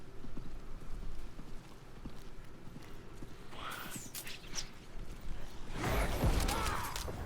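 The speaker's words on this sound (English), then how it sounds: "let's see him ride a horse" A horse ridden in the Diablo 4 video game gives soft, quiet clip-clop hoofbeats with a steady gait, later joined by louder creaking and crunching game effects, with no voices.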